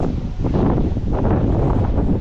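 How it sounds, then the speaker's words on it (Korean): Strong wind buffets the microphone outdoors at Sigiriya in Sri Lanka, a loud, continuous low rumble with no break. "바람 많이 부네"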